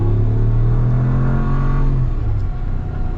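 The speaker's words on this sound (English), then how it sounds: "And this will be our full-blown acceleration in a moment." 2022 Ram 1500 Rocky Ridge K2 pickup truck at full acceleration, a steady deep engine roar with a low droning pitch that holds and then eases slightly, heard from inside the cab with no voices.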